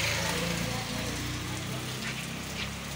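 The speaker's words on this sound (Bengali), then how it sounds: "গুড়ি গুড়ি বৃষ্টি পড়ছে।" Light drizzle falls on a road with pooled water after heavy rain, a soft, continuous pattering hiss holding at an even level throughout.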